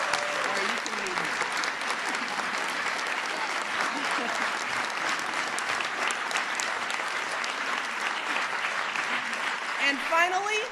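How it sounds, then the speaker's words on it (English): Loud, sustained applause from an audience at a school counselor of the year event, steady clapping filling the room for the whole stretch with crowd noise and a few voices mixed in. "So let's give them a round of applause"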